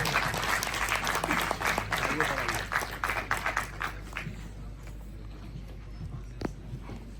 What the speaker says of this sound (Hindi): तो जोरदार तालियों से इस्तकबाल कीजिए